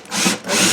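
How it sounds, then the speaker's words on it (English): A handheld drill grinds through the head of a pop rivet set over sacrificial wood, two close, harsh rasping bursts in quick succession with no talk. "You just drill that outer ring off like that."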